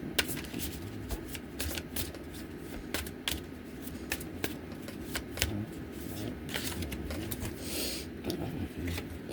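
A Time Oracle card deck is shuffled by hand, giving a close run of soft riffling flutters and taps that repeat irregularly over the whole stretch.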